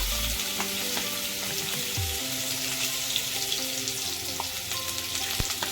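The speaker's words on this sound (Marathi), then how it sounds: "यात आता आपण टाकतोय कांदा" Finely chopped onion dropped into hot oil with asafoetida over a lowered gas flame, producing a loud, even sizzle with occasional stirring knocks and a low hum underneath, no talk.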